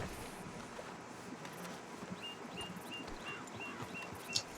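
A horse walks in Red Dead Redemption 2 with faint, steady clip-clop hoofbeats over a low outdoor ambience, with a few soft bird-like chirps.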